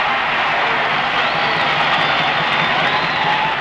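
A 1954 high school state finals basketball crowd cheers after a swish shot from the corner, a dense, loud, sustained roar of voices.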